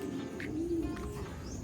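Racing pigeons coo nearby in a low, soft, rolling call, with a few faint chirps and some outdoor background noise, and no one speaking.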